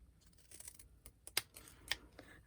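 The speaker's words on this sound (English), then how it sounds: "So I'm going to use my fringe scissors, work my way." Fringe scissors snip through paper in a few faint, sharp cuts with quiet rustles between them in an otherwise still room.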